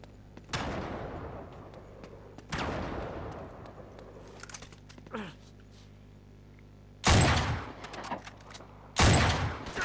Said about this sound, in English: I don't even know who's shooting at me